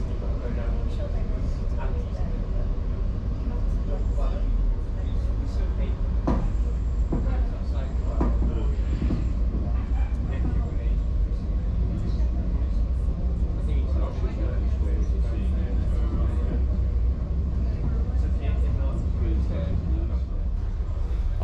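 Inside a busy passenger train travelling from Portugal to Spain, a constant low rumble of wheels on rails with occasional clunks and rattles throughout, while a voice talks over it.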